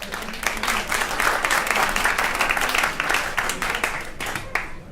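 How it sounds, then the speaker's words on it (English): An audience at a food waste summit panel in New York gives a round of applause, dense steady clapping that swells and then fades near the end. "Let's give them a round of applause, please."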